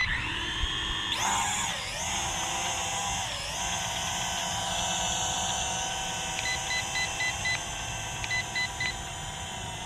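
High-pitched electric motors of an FQ777 quadcopter drone spin up abruptly and lift off, holding a steady loud whine with wavering pitch, joined later by a series of short beeps.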